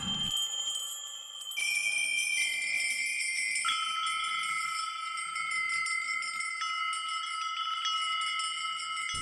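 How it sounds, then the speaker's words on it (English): A wind chime patch on the Spectrasonics Omnisphere synthesizer plays bright, sustained metallic tones that shimmer and overlap, stepping through several pitches at a slow pace with no voices. "Beautiful wind chime sound."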